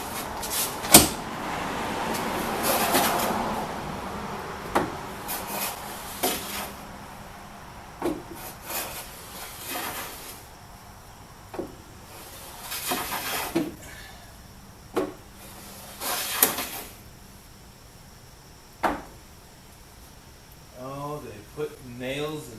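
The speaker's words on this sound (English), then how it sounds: "I can go along the edge here and plane it down" Repeated scraping strokes of a number 8 hand plane along a wooden door edge, broad rasping bursts separated by pauses and knocks, with a few short clicks near the end.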